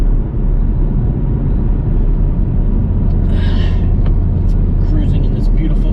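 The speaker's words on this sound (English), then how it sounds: "Cruising in this beautiful Camaro," A Chevrolet Camaro's engine rumbles steadily from inside the cabin while cruising, a constant low drone with a brief voice partway through.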